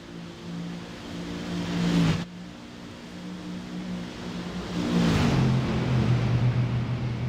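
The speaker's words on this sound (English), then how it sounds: "And you can tell these cars want to go, and they seem to be so evenly matched." Race cars at the Nürburgring 24-hour race, a steady loud engine roar that drops sharply as one car passes, then rises again as another accelerates by, with no voices.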